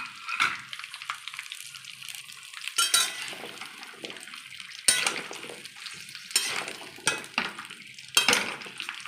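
Cut hog plums go into lightly heated oil with bay leaves for a pickle, sizzling softly while a utensil stirs and scrapes the pan in repeated clattering bursts, close and fairly quiet.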